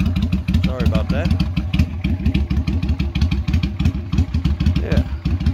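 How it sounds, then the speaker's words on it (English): An old motorcycle engine idles with a steady, rapid low thumping throughout, close and fairly loud, with a bit of mechanical clatter on top. "There's the old bike running."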